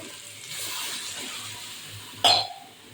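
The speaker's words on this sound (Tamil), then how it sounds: "தண்ணி ஊற்றிடுவோம்." Water poured into a pot of sambar on the stove makes a steady rushing hiss for about two seconds, then a sharp metallic clank of the pot.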